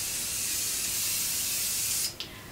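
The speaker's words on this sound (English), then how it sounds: "You just open the bottle, you shake it, and you apply directly onto any soft furnishings or upholstery." An aerosol flea spray hisses steadily onto upholstered soft furnishings for about two seconds, close and alone, then stops and gives one brief extra puff.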